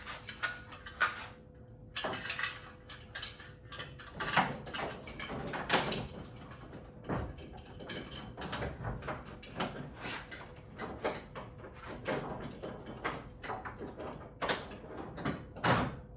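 Heavy-duty steel bed rack sliding along the rails of a third-gen long-bed Toyota Tacoma, with continuous metallic scraping, rattling and clunks close by.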